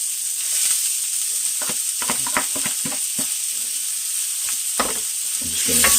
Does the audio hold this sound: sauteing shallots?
yes